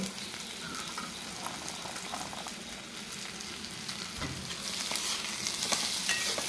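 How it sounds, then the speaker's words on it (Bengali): Soaked red flattened rice is stirred into spices frying in a pan, giving a continuous close sizzle with soft scraping stirs that grow louder and busier toward the end; nobody speaks. "এবার ভিজে চিড়েটা আমি এর মধ্যে অ্যাড করব"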